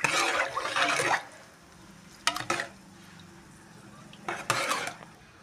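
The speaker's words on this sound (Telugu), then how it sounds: "గ్యాస్ టర్న్ ఆఫ్ చేసేసుకొని ఇందులో మొత్తం యాడ్ చేసేసి ఇలా కలుపుకోవాలి" A cooking pot with the gas turned off has washed ingredients added and mixed in, giving scraping stirs in two or three short bursts, with quiet pauses between.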